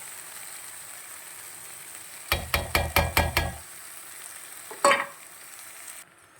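Cashew nut paste being stirred into a tomato and drumstick gravy in a pan: a quick run of about six loud spoon-against-pan scrapes and knocks, then a lone clatter, over a soft steady simmer.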